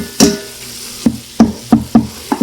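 Chili ingredients cook in an Instant Pot Rio, with a light sizzle under a series of sharp, close spoon clacks against the pot, irregular at first, then coming in quick succession.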